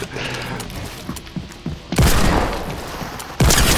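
Desert Eagle pistol fired in a video game, two loud, sharp booming shots about a second and a half apart, preceded by quieter scattered game noise.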